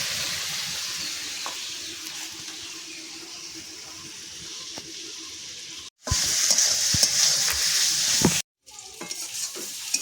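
Pointed gourd and a whole onion frying in oil make a steady sizzle with scattered spatula scrapes, turning suddenly louder and harsher for a few seconds near the end before a brief drop out.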